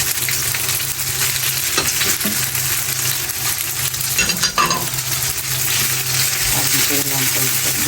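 Macaroni with tomato paste sizzling in a pan while being stirred, a steady close frying hiss with scraping and clinking of the utensil throughout.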